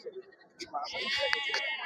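Sojat breed goats bleating at the busy Chakan livestock market in Maharashtra, a loud, wavering bleat that swells up and fills the second half, following a few softer animal calls and crowd noise.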